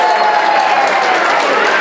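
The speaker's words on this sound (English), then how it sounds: "let's give him another round of applause" An audience applauds steadily at a gala charity auction, a dense, even wash of clapping from many hands that runs throughout without a break.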